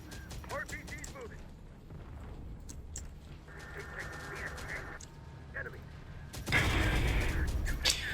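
Artillery fire in the video game Terminator Dark Fate Defiance: repeated sharp booms and cracks of gunfire over a steady rumbling battle bed, swelling into a louder dense barrage near the end, with a voice talking in places.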